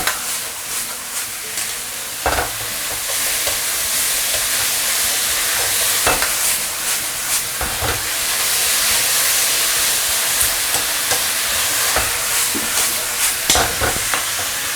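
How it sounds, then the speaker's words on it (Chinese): Ingredients stir-fried in a wok over maximum heat give a steady loud sizzle and hiss, broken by repeated scraping clanks of the spatula turning the food. "开最大的火给它翻炒均匀"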